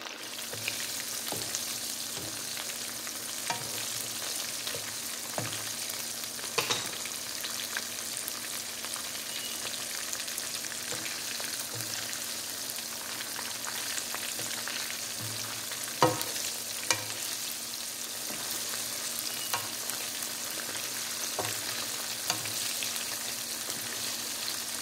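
Shrimp frying on high heat, a dense, even sizzle running steadily from start to finish with occasional small pops and faint clicks, close and uninterrupted by talk.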